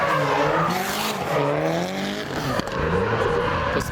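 A 500 hp Genesis Coupe drift car slides sideways at a drift festival, its engine note wavering through shifts while the tires squeal and skid loudly and continuously the whole time.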